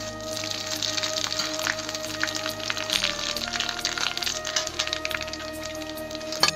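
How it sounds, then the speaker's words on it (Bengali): Two bay leaves and a few dried red chillies sizzling in hot mustard oil in a pan, a steady close crackle and spit with light popping throughout, no talking. "তেলটা গরম হয়ে গেছে, দিয়ে দেবো এই যে 2টো তেজপাতা, কটা শুকনো লঙ্কা"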